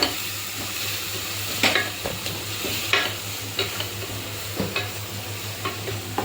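Loud, sizzling frying of a soybean curry as turmeric powder is stirred in, with periodic sharp spoon scrapes and clanks against the pan over a steady background hiss.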